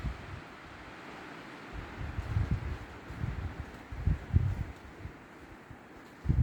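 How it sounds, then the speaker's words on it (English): Gusty wind blowing outdoors at a home just after a storm with winds over 50 mph that toppled trees, low rumbling gusts rising and falling through rustling, with a stronger burst at the end and no talking. "Still a little windy out."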